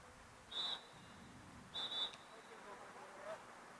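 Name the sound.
referee whistle at women's lacrosse game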